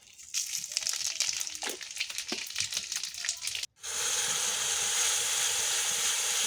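Panch phoron spices with dried red chillies and bay leaf sizzle in hot oil for a fish-head mixed vegetable curry, a crackling fry with a few stirring clicks that breaks briefly, then returns as a steady, louder hiss.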